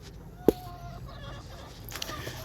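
Chickens cluck and murmur softly in the background, with a sharp knock partway through and faint scattered calls; no speech.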